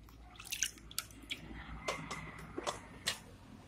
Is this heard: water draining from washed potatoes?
yes